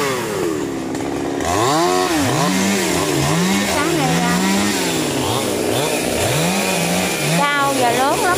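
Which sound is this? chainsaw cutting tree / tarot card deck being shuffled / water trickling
chainsaw cutting tree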